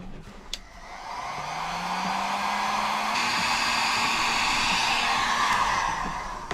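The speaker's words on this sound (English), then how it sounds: "So I just need my heat gun." Heat gun shrinking heat-shrink wire connectors while installing a diesel heater in a Sprinter van, a steady close blowing whoosh with a rising motor whine that holds constant for several seconds before trailing off.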